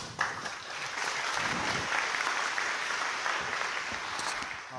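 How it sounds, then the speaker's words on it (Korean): A church retreat congregation gives a pastor a warm welcome with loud, sustained applause, a dense steady roar of clapping from a large crowd lasting nearly five seconds. "우리 박초원 목사님 나오실 때 큰 박수로 환영하며 모시겠습니다."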